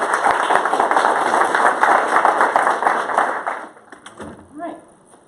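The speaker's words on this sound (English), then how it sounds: "Give her a round of applause." A room of audience members gives a round of applause at a morning 1 Million Cups presentation, dense steady clapping for about three and a half seconds, then thinning out into a few scattered claps and a voice.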